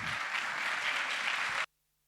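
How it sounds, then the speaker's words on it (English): An audience applauds at the end of a talk at a games day event, with steady crowd clapping for about a second and a half before it cuts off into silence. "One big final round of applause"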